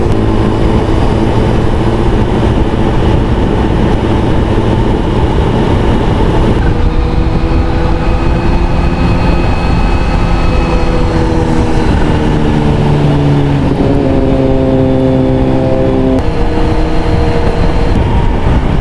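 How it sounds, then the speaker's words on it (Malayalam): A Suzuki Gixxer 750 motorcycle rides along a Kerala mountain road, its engine a loud, continuous drone whose tones climb and fall as the revs shift, with no voices. "ഈ ജിക്സർ 750 അതും നല്ല സൗണ്ട് കേട്ടോ"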